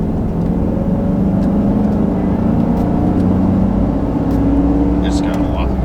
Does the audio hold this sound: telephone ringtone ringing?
no